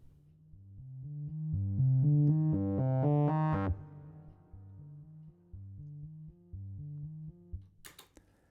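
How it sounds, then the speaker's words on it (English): Synthesized tones from the Radium tracker played through a plate reverb: a rising run of bright harmonic notes swells loudly, then repeated lower notes follow with lingering reverb tails, ending in a few short clicky bursts. "So let's add another reverb here,"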